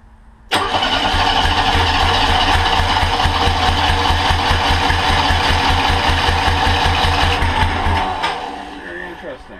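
A Monster Trike engine just back from a carburetor rebuild starts abruptly and runs loud and steady with a rough, pulsing idle for about seven seconds, then cuts out and trails off.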